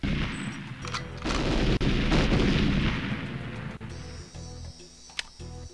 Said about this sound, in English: those explosions can kinda get through these walls and blow up the nukes